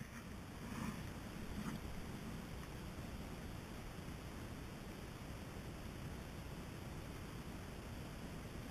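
Kayak paddling in winter along the western shore of an island, a soft, steady wash of water and breeze with faint paddle splashes near the start, quiet and continuous with no voices.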